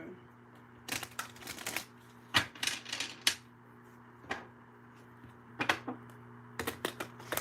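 Playing cards are shuffled in short bursts of riffling and snapping, close by, with brief pauses between bursts and no talking.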